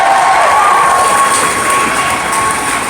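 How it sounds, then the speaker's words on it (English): Audience applause and cheering at a live stand-up comedy show at the Trocadero in Philadelphia: a dense, loud, steady wash of clapping and crowd noise that fills the whole stretch without letup. "Give yourself a round of applause for coming out"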